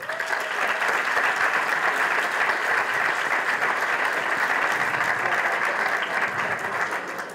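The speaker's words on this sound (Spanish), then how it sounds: "A todos ellos, un fuerte aplauso." A hall audience at the final of a Jesuit schools debate tournament breaks into loud, sustained applause that keeps a constant wash of clapping to the end.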